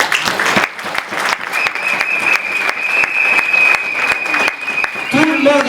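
A large audience at an international conclave applauds the United States delegation. The clapping is loud and sustained throughout, with a voice and some cheering carrying over the crowd.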